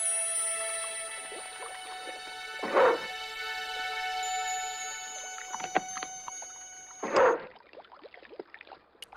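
A dog in Broken Sword 2 lets out two short, strong vocal bursts several seconds apart, heard close over sustained background game music with no talk.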